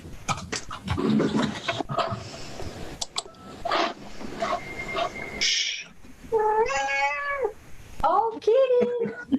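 A friendly cat meows repeatedly at dinnertime, with several drawn-out, wavering meows near the microphone, while people talk and laugh around it.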